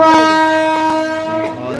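A Mumbai local train starting to move sounds a long, steady horn over rhythmic clacking of the wheels, close and loud, fading slightly at the end.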